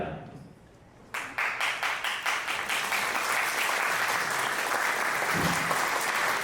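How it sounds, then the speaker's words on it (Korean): Wedding guests at a Korean wedding ceremony break into warm applause after a quiet moment, the clapping starting abruptly and swelling into a dense, sustained wash that holds steady to the end. "다시 한번 따뜻한 축하의 박수를 부탁드립니다"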